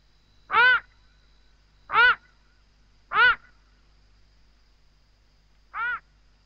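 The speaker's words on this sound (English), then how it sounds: "The side-striped jackal yaps from the dense bush." A side-striped jackal yaps from dense bushveld at night, four short harsh calls spaced a second or more apart, clear and fairly close against a quiet background.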